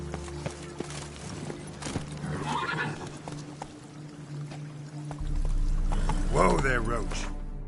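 Geralt's horse Roach in The Witcher 3 whinnies loudly near the end, after steady hoof clip-clops and faint mechanical clicks, with no talk over the sound.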